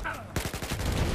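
A sudden heavy explosion in Battlefield 4 on the Guilin Peaks map bursts in after a brief lull and rolls on as a loud, rumbling roar mixed with gunfire-like crackle.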